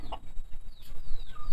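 Farm chickens cluck and chatter close by in a short, busy burst of overlapping calls, with no talk.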